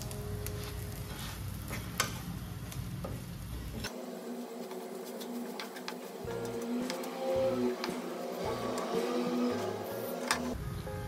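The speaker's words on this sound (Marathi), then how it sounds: "छान असा मिक्स करूया त्यात आणि 2-3 मिनिटं छान असा परतून घेऊया त्याला मिरची सोबत." Stuffed green chillies and their stuffing fry in a pan with a continuous hiss and crackle and occasional light ticks of stirring. A low hum starts partway through and comes and goes.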